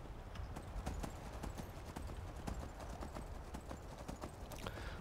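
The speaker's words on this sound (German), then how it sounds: "Wir reiten erstmal noch ein Stück mit dem Pferdchen" Hooves clip-clop steadily as a horse is ridden in the video game Skyrim Special Edition, an even rhythmic beat set against a constant rushing outdoor background.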